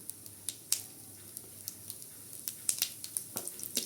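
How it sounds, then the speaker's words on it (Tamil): Mustard seeds and urad dal spluttering in hot oil, scattered sharp pops and crackles of varying loudness at an uneven rhythm over a faint background hiss. "கடுகு பொரியட்டும்"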